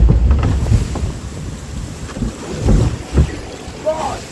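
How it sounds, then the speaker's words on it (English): Log flume boat ride at an amusement park, heard from aboard the boat as gusty wind buffeting and a rushing, rumbling water wash with a few louder surges. "We're on a log flume."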